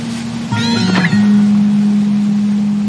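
Kitten meowing in the video game Shelter 2, a single clear, close meow rising then falling over a steady game ambience hum.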